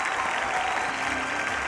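An audience claps continuously at the 1998 Kral music awards ceremony, a dense even burst of applause filling a large hall with no pauses.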